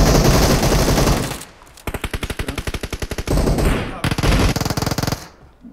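Bursts of rapid Uzi fire in the mobile battle royale game PUBG Mobile, loud and close, with sharp repeated shots in several sequences separated by short gaps.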